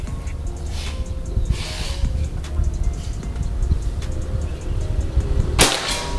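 A single crisp shot from a PCP Predator air rifle with a slug barrel cracks close by near the end, after some soft rustling over a steady outdoor drone.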